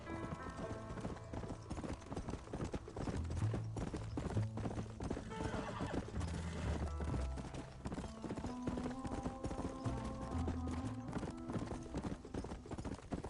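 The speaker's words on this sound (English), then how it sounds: "My horse can't keep up." Horse hooves galloping in the Red Dead Redemption video game, a steady clip-clop rhythm with an occasional whinny, set against a music score.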